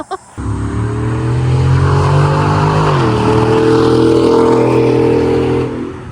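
A car fitted with a Corsa aftermarket exhaust drives down the road, its deep, steady engine drone loud and close throughout, with the pitch dipping slightly midway as the speed changes.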